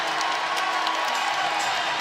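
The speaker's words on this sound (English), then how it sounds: "That gets the crowd into it in Morgantown" A basketball arena crowd in Morgantown roars steadily after a 5-second inbounds call, a dense, sustained wash of cheering and applause with no pauses.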